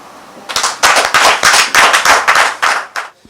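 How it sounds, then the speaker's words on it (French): Audience of artisans applauding for Dr. Tchakpe at a morning gathering: clapping bursts in close, loud waves that start after a short pause, with no talk over them. "je voudrais demander à tous les collègues artisans ici présents d'applaudir pour Dr. Tchakpe"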